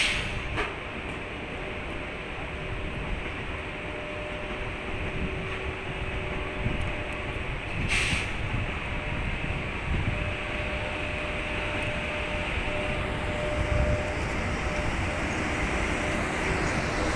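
An EF81 electric locomotive running alone as it departs a station platform: a steady, droning electric hum and rumble that builds slightly over time, heard fairly near with no talk on top.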